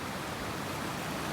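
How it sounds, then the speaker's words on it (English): A small mountain waterfall near a meadow on the John Muir Trail rushes as a steady, even broadband wash, continuous and unbroken, with no voices. "look at that little waterfall down there"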